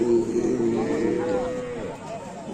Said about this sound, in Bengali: এখানে আরো কিছু পাহাড়ি গরু আছে